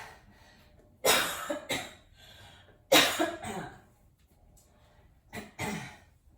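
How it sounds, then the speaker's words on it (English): Three bursts of harsh, chesty coughing, each a short cluster of two or three coughs, separated by quiet pauses, close to the listener. "I still have this lingering cough."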